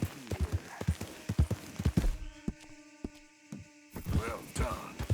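Hooves of a Red Dead Redemption 2 horse clatter in a quick, irregular run of close beats, then stop for a steady electronic hum with a few thuds, before more hoofbeats and rustling return at the end.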